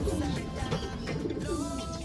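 Pigeons in their cages while being handled, a close soft cooing and bird calls over a steady background rustle.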